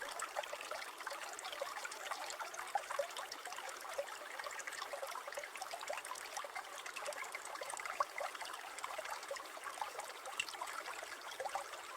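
A babbling stream runs beside a sturgeon farm in Da Lat, giving a faint, steady trickle and wash of water that carries on unbroken with no voices.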